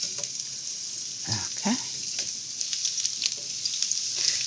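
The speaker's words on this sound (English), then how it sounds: "Let's fry the squash now." Winter squash sizzles and crackles steadily in hot vegetable oil, with a few soft clinks and a brief spoken word.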